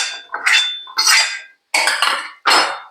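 Fried okra scraped from a pan into a bowl, four separate bursts of clattering utensil-on-metal scraping with short pauses between, close and fairly loud with no talk.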